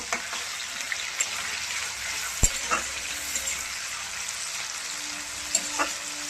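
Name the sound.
stirring tomatoes frying in a pan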